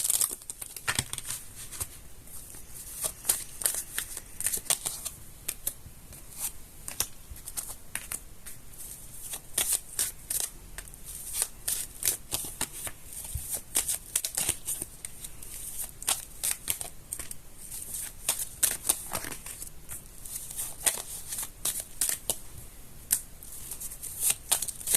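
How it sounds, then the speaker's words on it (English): Tarot cards shuffled by hand in a quiet room, a dense run of crisp riffling flicks and soft papery slaps repeating steadily at close range, with no talk. "Another shuffle, they say."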